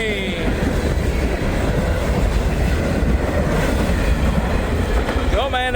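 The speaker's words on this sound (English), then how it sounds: "Short train." A short freight train with boxcars and a new grain hopper rolls past close by, a steady rumbling roar with rhythmic wheel clatter and a brief squeal near the end.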